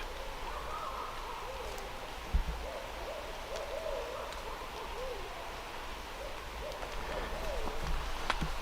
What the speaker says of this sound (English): It's a hoot owl.